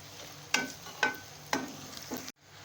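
Garlic, ginger paste and onions frying in a pan, a gentle sizzle under four distinct stirring scrapes about half a second apart, then a sudden cut to near silence.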